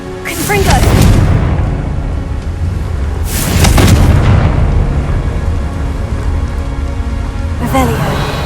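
Confringo blasting spells explode in Hogwarts Legacy, loud booming bursts with crackling debris tails, striking near the start, again around the middle and once more at the end, over a rumbling background.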